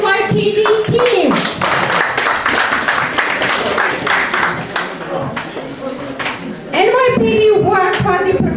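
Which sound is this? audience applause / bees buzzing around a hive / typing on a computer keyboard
audience applause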